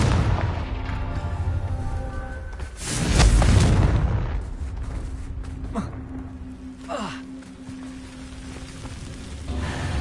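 A Confringo spell explodes in Hogwarts Legacy with one loud, deep boom that swells and rumbles for about a second amid ongoing game ambience, with a few fainter thuds afterward.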